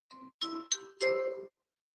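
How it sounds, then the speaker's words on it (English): A phone's text message notification tone: a short sequence of three or four bright chiming notes over about a second and a half, close and clear, with nothing else around it. "Text message."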